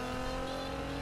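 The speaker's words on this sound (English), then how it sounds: "Oh, revving it." A Nissan GT-R in the Need For Speed video game revs hard, producing a brief loud, sustained engine roar with no talking.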